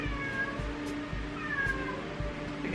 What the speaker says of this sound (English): Okay, I think my cats are fighting under the bed.